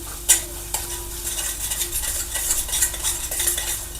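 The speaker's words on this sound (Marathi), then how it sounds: "हे आता मिक्स करून घ्यायचं आहे व्यवस्थित." Spoon stirring whole masoor lentils with chili powder and Kolhapuri chutney in a pan, a steady scraping rhythm with faint sizzling and occasional metallic clinks, close and moderately loud.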